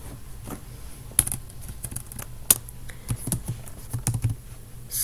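Typing on a computer keyboard, with irregular bursts of key clicks and a few sharper, louder keystrokes against quiet room noise.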